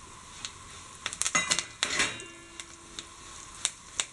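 Curry leaves stirred in a hot pan for Kerala-style beef fry: a string of light metallic spoon scrapes and taps against the pan, clustered in the middle, over a soft sizzle, with no talk.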